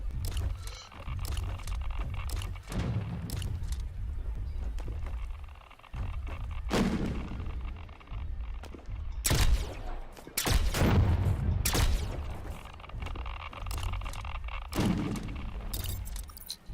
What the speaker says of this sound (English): I hear other gunshots and stuff,